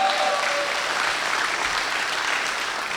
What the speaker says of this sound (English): Big round of applause, gentlemen.